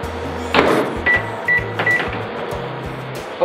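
A microwave oven melting a puppy chow mixture hums at low pitch, broken by a door thump and a few short electronic beeps from the keypad, close by and with no voices.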